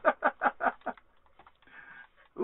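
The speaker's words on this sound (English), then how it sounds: "Oh, I hear chickens." Chickens in the video game Minecraft cluck in a quick run of five short, fairly loud pulses, followed by quieter scattered clucking and a brief final call.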